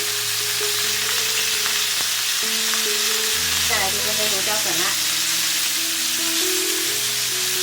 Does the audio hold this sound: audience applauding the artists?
no